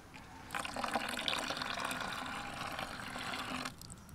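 Water is poured into a bubble-solution mix of glycerin and sugar syrup: a steady, close gushing pour of about three seconds that then stops, with no voices over it.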